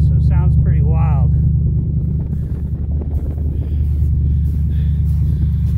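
A 1986 Cadillac idles with a rotted-out muffler, giving a loud, deep, uneven rumble that runs through the whole clip, with someone talking over it near the start.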